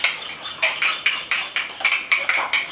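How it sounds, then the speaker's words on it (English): A utensil scrapes and clinks rhythmically against a mug while stirring cake mixture of flour into a smooth paste, about ten quick strokes, close and clear with no talk. "Make sure you get it blended nicely so there's no lumps of flour."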